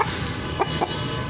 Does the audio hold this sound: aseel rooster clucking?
yes